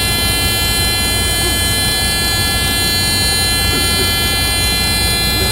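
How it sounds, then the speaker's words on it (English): A steady, loud electronic buzzing tone drones without a break, like an alarm blaring continuously. "Now I got alarms and shit going off."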